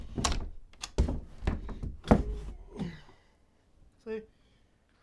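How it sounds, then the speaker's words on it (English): A light bathroom door with sliding-door hardware is pushed aside and pulled straight off its hinges, giving several close wooden thumps and knocks followed by a short clatter, with a person talking quietly. "Then we just push the door that way and pull it straight out."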